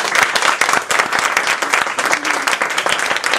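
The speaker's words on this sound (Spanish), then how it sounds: "Por favor, un aplauso para él." Loud, dense audience applause welcoming a speaker at a business presentation, many hands clapping close by in a continuous rapid patter throughout.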